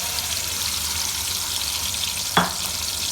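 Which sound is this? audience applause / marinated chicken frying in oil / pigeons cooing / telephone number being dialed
marinated chicken frying in oil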